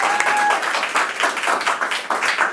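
Audience applauding and whooping for the Waze CEO taking the stage at a company talk, a dense, steady wash of clapping close by that fades slightly toward the end.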